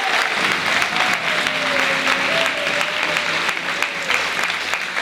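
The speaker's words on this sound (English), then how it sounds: "Give them a big round of applause." Applause at the Westside Awards for the Providence Mount St. Vincent nonprofit, steady clapping from a room full of people lasting several seconds, with a faint voice or tone drifting beneath it.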